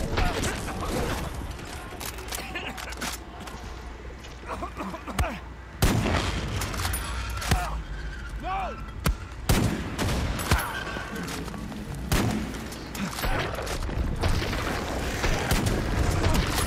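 Heavy gunfire in Far Cry 6, with dense bursts of rapid shots, booms and mechanical clatter from a close, chaotic firefight that carries on almost without pause.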